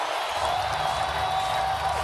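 A baseball crowd at Minute Maid Park roars steadily during a first-inning, bases-loaded, two-out situation, a dense, continuous wash of cheering voices filling the whole moment without pause.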